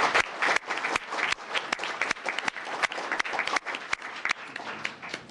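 An audience claps steadily in applause for Dr. Wanda Jones at a CFSAC panel meeting, a dense, sustained round of many hands, fairly close and loud, with no speech over it.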